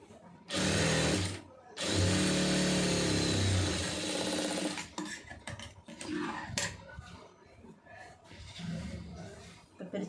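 A sewing machine stitches a pencil skirt, running loud and close in two steady bursts of about one and three seconds. Quieter handling noises follow.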